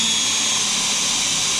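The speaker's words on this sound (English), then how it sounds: "now I can find the same centre with the Forstner bit and drill a counterbore or a flat bottom hole about 3mm deep" A Forstner bit bores a shallow, flat-bottomed counterbore about 3 mm deep into a drawer front, giving a steady, close, unbroken whir of rotating bit and drill with no speech.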